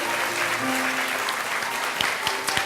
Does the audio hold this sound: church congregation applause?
yes